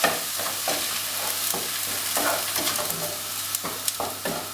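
Fried rice sizzling and being stirred in a hot pan after a splash of soy sauce, with continuous close frying crackle broken by regular scraping strokes of a utensil.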